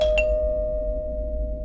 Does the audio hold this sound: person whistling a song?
no